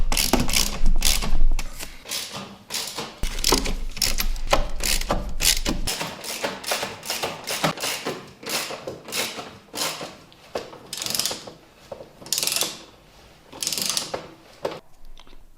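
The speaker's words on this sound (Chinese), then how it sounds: "我们现在把螺丝给它上紧。" Screws are tightened to fix a fresh air ventilator unit against a wall, with close, repeated bursts of sharp ratcheting clicks that stop and start in an uneven rhythm.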